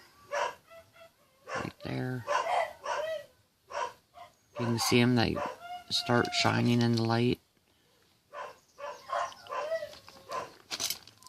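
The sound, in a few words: dogs barking downstairs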